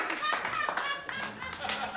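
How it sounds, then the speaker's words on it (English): An audience at a stand-up comedy show claps their hands in a brief, uneven burst of separate claps that thins out, with a voice speaking faintly underneath. "clap your hands one more time."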